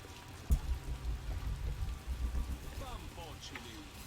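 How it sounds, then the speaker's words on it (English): Steady rain patters and hisses on surfaces, with a sharp thump early on. "if the rain or thunder is too loud"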